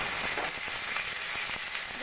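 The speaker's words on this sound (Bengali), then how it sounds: "দিয়ে দেবো কুচিয়ে নেওয়া ক্যাপসিকাম" Chopped capsicum crackles loudly in hot oil in a wok, a dense, steady sizzle with scattered sharp pops running through the whole stretch.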